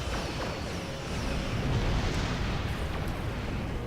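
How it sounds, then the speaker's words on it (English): A full volley of torpedoes fired in a space combat game, heard as a continuous roaring, rumbling barrage with layered launch bursts and explosive thuds. "Voidbringer, full volley of torpedoes."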